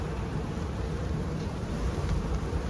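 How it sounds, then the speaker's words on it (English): Honeybees swarming over the inner cover of an open hive, a dense steady low buzz filling the air close by, with no pauses. "The amount of bees that we have on the inner cover is somewhat bizarre."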